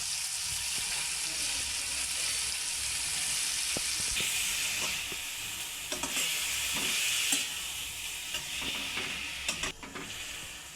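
Spinach seasoned with salt and turmeric is stirred and cooked in hot oil in a pan. A constant hissing sizzle runs throughout, punctuated by scraping stirs and soft knocks of the utensil, which come more often toward the end.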